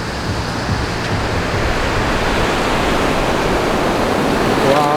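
Continuous rushing surf washing in and out on Arambol Beach, Goa, loud and close, a dense hiss of water with a gentle swell toward the end.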